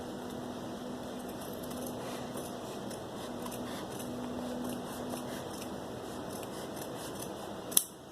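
Scissors snip steadily through fabric along a V-neck line on a kameez, blouse or kurti pattern, a soft continuous cutting sound with one sharper click near the end, fairly close and with no talking.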